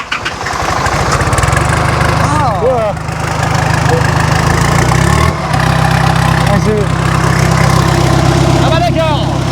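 A tuned car engine idles in a garage in Thailand with a steady, loud, rumbling low throb close by. The engine is running cold and has been freshly revved. People talk over it throughout.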